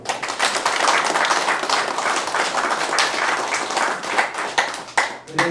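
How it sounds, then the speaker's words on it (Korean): A big, dense round of applause from a crowd at the opening of a campaign office for a provincial governor candidate, loud and continuous for several seconds, thinning slightly near the end. "여러분도 같이 또 큰 박수."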